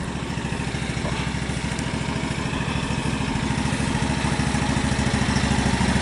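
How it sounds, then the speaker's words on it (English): A 2020 Exmark Turf Tracer 52-inch walk-behind lawn mower engine runs close by at a steady idle-like rhythm, a continuous mid-pitched throbbing drone with light mechanical clatter, with no talk heard. "This is a Exmark Turf Tracer 52 inch."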